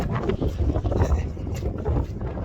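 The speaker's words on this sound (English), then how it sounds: "A little feisty wind." Fierce wind roars on Mount Lafayette along the Appalachian Trail in the White Mountains, steady, heavy buffeting against the microphone with gusting low rumble and no clear talk.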